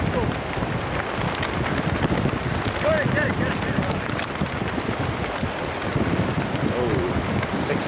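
Strong, gusty wind buffets the microphone on a beach during a 1994 Sauble Beach volleyball match, a constant broadband roar running the whole time with faint distant voices underneath.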